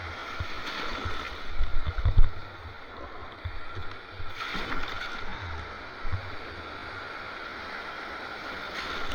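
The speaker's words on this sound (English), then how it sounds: "These bigger waves, they come in sets, like a frickin' tsunami, and then they'll calm down" Ocean waves at Fort Lauderdale Beach, rolling surf that swells and breaks in uneven surges, with wind buffeting the microphone and a faint voice at times.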